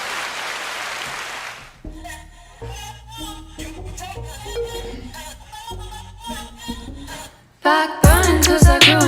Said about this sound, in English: Round of applause for another one, and another one